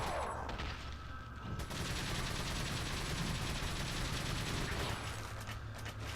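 Rapid gunfire rings out in Resident Evil 4 as shots hit a slow-moving boss, with bursts of loud, dense shooting over a rumbling game soundscape, a brief lull near the start and sustained firing after.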